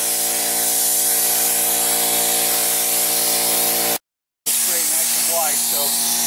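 Enamel paint with added reducer hisses steadily from a spray gun onto a rat rod car, loud and continuous with a compressor hum beneath, broken by one brief pause before the spray resumes.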